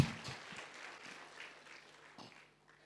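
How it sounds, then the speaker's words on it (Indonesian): A church congregation claps in praise, starting strong and gradually fading over a few seconds, with scattered distinct claps near the end. "Tepuk tangan yang meriah untuk Tuhan Yesus."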